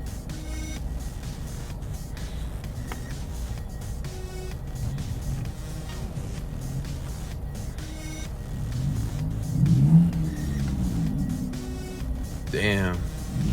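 A boosted Honda FG4 car drives past and accelerates, its engine note swelling and then pulling away, heard at moderate distance over steady background road and street noise.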